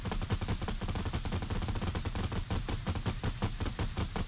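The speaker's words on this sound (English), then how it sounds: "Everyone except Blake, shoot at the bottom." Sustained automatic gunfire in Fortnite as several players shoot at a target, a steady rapid rattle of shots running the whole time at moderate loudness with no voices over it.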